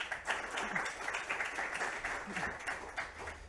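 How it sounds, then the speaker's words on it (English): An audience at the AlterCOP 29 event applauds, a dense, even round of clapping from many hands that carries on at a moderate level through the whole stretch. "can you please clap again once for them?"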